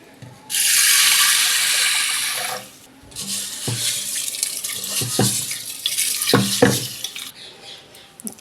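Running tap water splashes steadily over raw green gram (mung beans) for about two seconds, then the beans are swished and rinsed by hand with wet clattering and sloshing, close up with no voices.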